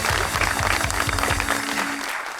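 Studio audience applause on a Pakistani TV comedy talk show, a steady dense patter of many hands clapping throughout, close and fairly loud, with no voices over it.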